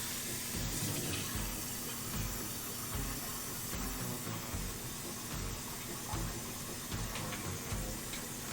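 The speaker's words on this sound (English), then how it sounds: "Let's give that a rinse out." Tap water runs in a steady, loud, hissing stream while something is rinsed out at a kitchen sink, with no voices.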